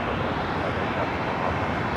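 An Airbus A330-200 heavy jet roars on takeoff at LAX, a broad, steady, moderately distant engine rumble filling the short stretch without pause or speech.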